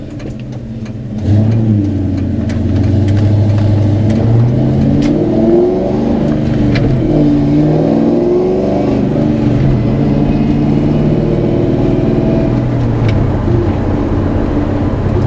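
A 1995 Ford SVT Mustang Cobra V8 accelerates through a German town, its engine note rising and falling through the gears, loud and steady from inside the car.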